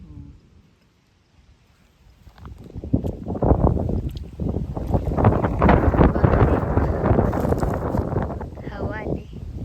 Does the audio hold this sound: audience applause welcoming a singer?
no